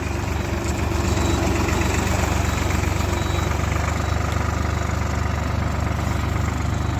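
A Solis 50 tractor engine runs steadily at a constant idle, a loud low rumbling drone with mechanical vibration and no change in pace.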